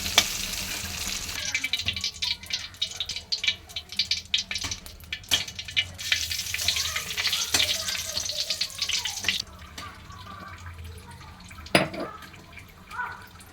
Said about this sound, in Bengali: আলুটাও ভেজে নিচ্ছি